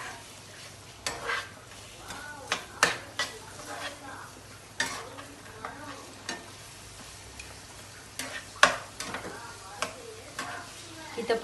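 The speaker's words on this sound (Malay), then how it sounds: "Kita perlu tumis" Garlic and spices being sautéed in a pan over medium heat for an egg kurma, with a soft steady sizzle broken by repeated stirring and scraping strokes, close up and without talk.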